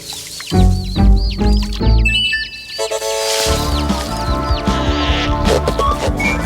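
Cartoon birds in a Garfield and Friends scene, with busy squawking, clucking bird calls and fluttery sounds over a loud musical score, no talking.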